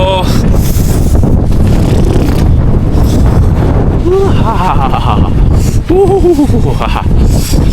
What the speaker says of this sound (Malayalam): നല്ല ഹെവി കാറ്റാണ്